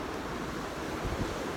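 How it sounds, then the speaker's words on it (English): Ocean waves washing onto a beach on a sunny day, a steady broadband roar of surf with wind noise across the microphone, continuous and fairly loud with no voices. "we're here at the beach, walking along the ocean front"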